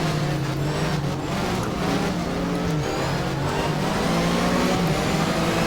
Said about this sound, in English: I'm still getting used to trying to listen to the engine.